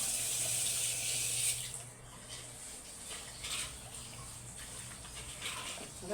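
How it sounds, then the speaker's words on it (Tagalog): Water runs from a tap into a soap mixture, a steady hissing stream with splashing that thins out after a second and a half and continues more softly, with small patters. "Nilalagyan ko siya ng tubig kasi nga pag puro siya masyado siyang mabula."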